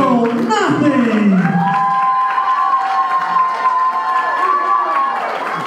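Wrestling crowd at a CWA heavyweight championship match cheering, whooping and applauding loudly for several seconds, with a voice calling out over the noise near the start.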